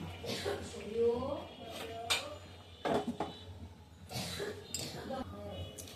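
A lid is set onto a cooking pot of fish and potatoes, giving a few light metallic clinks while someone keeps talking nearby in a home kitchen.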